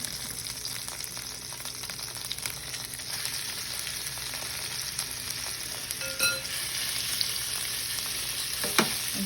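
Chicken pieces browning in a pan for a curry base, a steady low hiss of frying with occasional faint utensil clicks and a brief scrape, heard alone.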